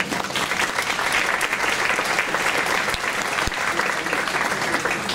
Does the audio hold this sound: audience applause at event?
yes